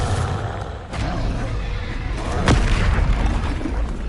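A Confringo fire spell explodes in Hogwarts Legacy, a sharp booming blast that stands out above a rumbling battle soundscape, with a voice shouting spell names nearby.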